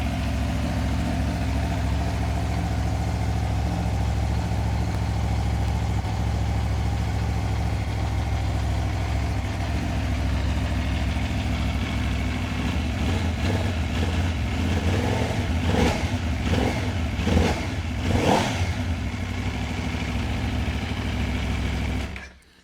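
A 2010 Aprilia RSV4 Factory's V4 motorcycle engine idles steadily and loudly for a long stretch, then several quick revs burst out near the end before it cuts off.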